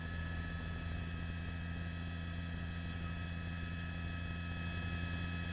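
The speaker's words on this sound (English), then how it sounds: "We've actually moved the helicopter onto the other side of the hill." Continuous heavy rotor and engine drone of a news helicopter flying over a brush wildfire near Newbury Park, steady and loud throughout with no break.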